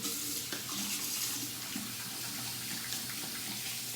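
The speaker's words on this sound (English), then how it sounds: "I'll wash my hands off that a little bit" Hands being washed under a running sink tap, a steady close broadband rush of flowing water with small splashy shifts throughout and no speech.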